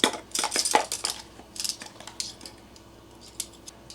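Metal tablespoon clinking and scraping in a jar of dark chili powder while measuring out spice mix, a cluster of close, light taps and scoops, then sparser ticks fading toward quiet.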